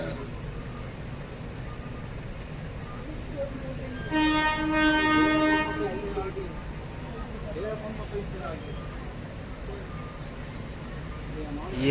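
Train horn sounds from a passing train while the Ernakulam–Bilaspur Superfast waits at a crossing stop, a loud harmonic blast of about two seconds over steady rail rumble and background chatter.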